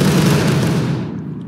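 A musket volley in War of Rights, a loud rolling crackle of many shots fired together that fades over about a second into a distant tail.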